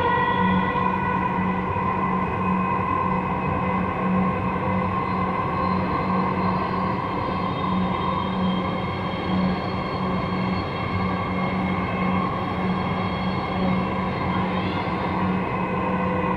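Steady, continuous hum and rumble from inside a moving Dhaka Metro Rail train, running smoothly at a constant level with no talk.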